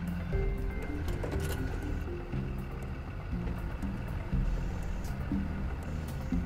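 A bus rumbles forward during a pre-trip inspection and comes to a stop under hydraulic braking, with a steady low engine drone, a few clunks and a short hiss.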